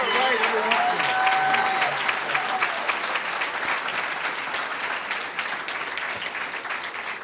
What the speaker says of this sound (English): Could we have a round of applause for a great Republican, Paul Harris, for his great work?